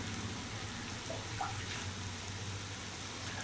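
Water trickles and splashes steadily as it is poured into a cooking pot of masala curry base with onions, a continuous soft flow with a low background hum.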